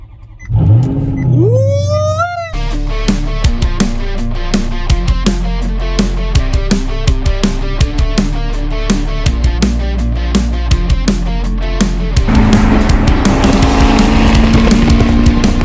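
A Maserati GranTurismo MC S engine cranks briefly and catches, then settles into a loud, steady idle with regular pulses before a sharper, louder rev near the end.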